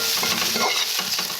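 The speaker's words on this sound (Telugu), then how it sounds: "బాగా ఫ్రై అవ్వాలన్నమాట" Fish fries in a pan with a dense, close sizzle broken by quick stirring scrapes and bursts of crackle, with no voices.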